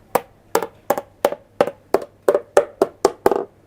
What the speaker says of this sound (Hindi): हम उस जगह पे इसे हिट करके देखेंगे और आवाज़ से अंदाज़ा लगाएंगे कि ये अंदर से खाली है